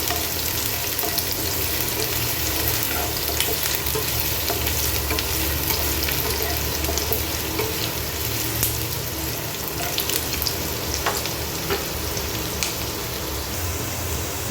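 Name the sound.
onions and green chillies frying in a pan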